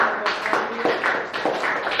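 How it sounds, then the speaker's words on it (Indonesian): Scattered clapping from a small classroom audience after a student presentation, a few uneven hands beating in a loose rhythm for about two seconds. "beri tepuk tangan untuk"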